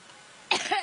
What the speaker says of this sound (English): yet another coughing fit